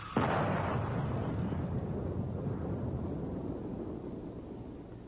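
A shaped charge detonates during explosive ordnance disposal, a single sudden heavy blast heard from a distance, followed by a long deep rumbling roar that fades slowly over several seconds, with no voices.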